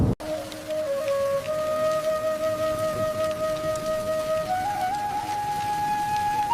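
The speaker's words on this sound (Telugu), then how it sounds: "వర్షం గట్టిగానే మొదలైంది." Heavy rain begins over a riverside bridge on the Godavari at Rajahmundry, a steady dense hiss that holds throughout, with a faint high whistling tone running above it and no voices.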